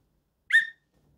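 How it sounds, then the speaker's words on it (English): A bean whistle gives one short, bright chirp, close and clear, in otherwise near silence. "I can't stop playing with my bean whistle."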